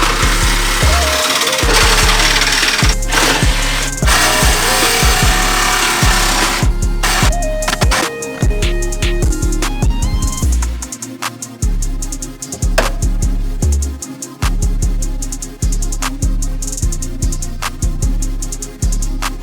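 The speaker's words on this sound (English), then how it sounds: "we have to cut off all this stuff that I fabricated and welded on here" A power tool grinds and saws through metal parts that were fabricated and welded onto a car. The cutting is loud, close and continuous, with a harsh rasping texture and uneven bursts.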